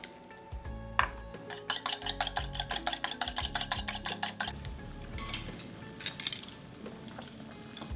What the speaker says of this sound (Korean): 계란 하나를 풀어주세요.